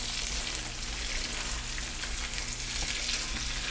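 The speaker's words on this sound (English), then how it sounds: "Now we're just going to mix and toss and toss and toss." Green beans and krab tossed in a hot pan sizzle loudly and steadily, close by, a dense, even frying hiss with faint stirring underneath and no talk.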